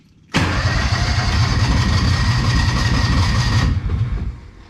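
A Kawasaki Mule 2510 utility vehicle engine cranks steadily and loudly for about three and a half seconds with the choke held out, a continuous churning drone that cuts off abruptly, with no voices over it.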